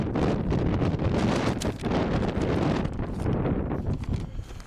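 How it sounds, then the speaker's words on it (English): Gusty wind buffets the microphone at a chilly outdoor varsity baseball game as light snow falls, a steady loud rumble that swells and dips throughout with no voices heard. "Windy day here with snowflakes kind of falling."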